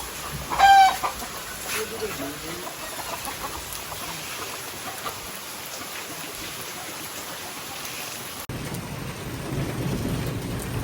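Steady rain hisses over a wheat field at harvest, with a rooster crowing briefly at the start and a faint low rumble of thunder underneath.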